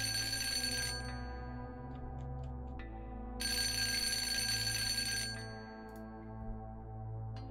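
A telephone rings inside a video game, two long electronic ringing bursts separated by a pause of about two seconds, heard over a steady low droning tonal background with no talking.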